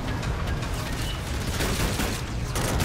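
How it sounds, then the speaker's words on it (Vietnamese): Dense bursts of gunfire in Call of Duty: Infinite Warfare, rapid and continuous, loud and close, with mechanical clatter mixed in. "Ôi, súng này bắn giật vậy."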